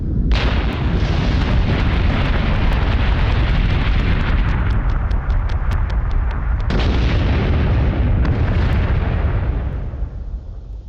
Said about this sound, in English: Let's missile it and see if it can wipe it out in one turn